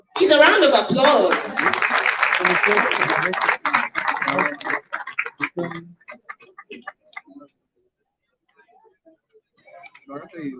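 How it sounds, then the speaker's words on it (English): Audience applause at a town hall meeting on women in politics, dense clapping for about five seconds that thins into scattered claps and fades to near silence, a few faint sounds returning at the end. "Please, a round of applause"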